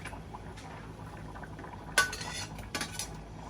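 Tomatoes being stirred into a curry pot in a home kitchen, with a couple of sharp spoon-on-metal scrapes and clinks over a quiet, low background hiss; no talk.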